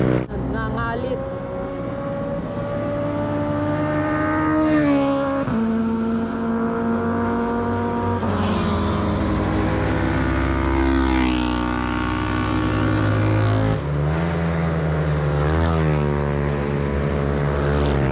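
Motorcycles on the Marilaque mountain road, engines roaring loud and close with repeated revving swells and shifting pitch throughout, while a voice talks over the noise.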